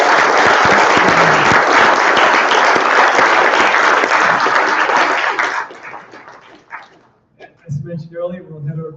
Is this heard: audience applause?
yes